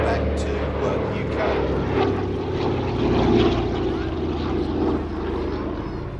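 A Douglas DC-3 Dakota's radial propeller engines drone steadily overhead at an air festival, a loud continuous rumble rising and falling as the plane passes, with a commentator talking over the public address.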